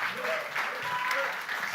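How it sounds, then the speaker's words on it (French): Applause for the group's filmmaker during a French-speaking event, a brief burst of clapping with cheering and voices mixed in, lasting under two seconds. "On peut l'applaudir d'ailleurs pour ce qu'il fait."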